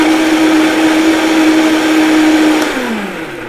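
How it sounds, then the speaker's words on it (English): A blender whirs loudly at a steady high pitch pureeing strawberries, then its motor winds down and slows toward the end. "Put half of them in a blender and blend up."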